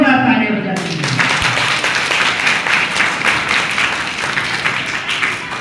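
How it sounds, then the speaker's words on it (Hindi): A village crowd at a ceremony honouring students selected in NEET 2025 in Ratangarh breaks into loud clapping after a brief spoken lead-in, with a dense, continuous patter of many hands that stays strong throughout. "एक बार जोरदार ताली बजाते हैं।"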